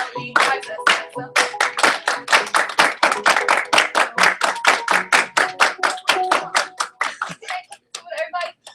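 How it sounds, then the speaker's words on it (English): An audience claps along in quick double time, a long run of evenly spaced claps, close and bright, with voices heard faintly beneath and a looser scatter of claps at the end. "double time would be twice as fast"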